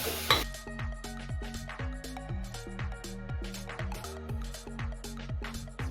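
Potatoes and peas are stirred in a cooking pan with a metal spoon, giving repeated scraping clinks and knocks in a steady rhythm over a light sizzle, close and fairly quiet.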